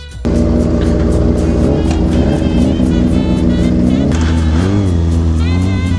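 A vehicle revving hard on a city street while its rider holds a wheelie, the engine loud and close with a sustained roar that climbs and wavers in pitch near the end.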